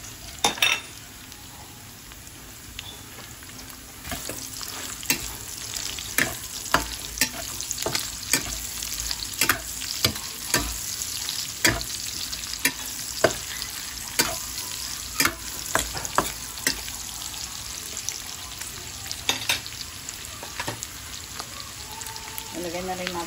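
Onions sizzling and frying with pork in a pan, a steady close crackle broken by frequent sharp stir and spatter clicks throughout, with occasional quiet speech under it.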